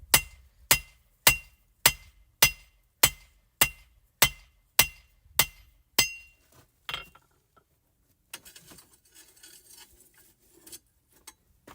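Hammer blows ring out on steel over a cheap anvil while forging a chef knife from a coil spring, about ten sharp metallic strikes in steady rhythm, then scattered clanks and shuffling with no talk.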